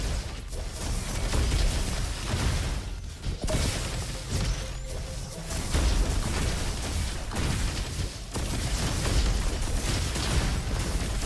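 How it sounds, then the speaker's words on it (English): Repeated explosions from the Engineer's Blaster in the video game Roboquest, with projectiles bursting and chaining into second blasts amid dense, loud, continuous combat noise and crashes throughout. "when the projectiles hit, they have a chance for a second explosion"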